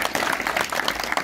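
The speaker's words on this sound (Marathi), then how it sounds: "टाळ्या वाजवा, टाळ्या." An audience at a public gathering claps in a dense, continuous burst of applause, close and fairly loud, lasting only a moment.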